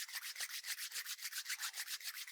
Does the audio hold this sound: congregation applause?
no